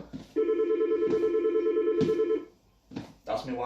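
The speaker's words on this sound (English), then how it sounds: "That's my wife's phone working from home." A mobile phone rings loud and close indoors at home during a workout, sounding a sustained electronic ringtone with a stutter partway through. It cuts off, and a voice is heard briefly afterward.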